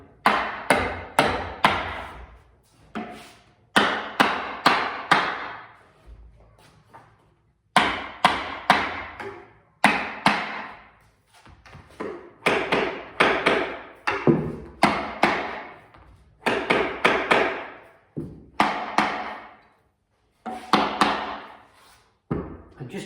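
Stretcher bars on an oil painting are tapped back into place, making close, sharp wooden knocks that come in quick bursts of several blows separated by short pauses.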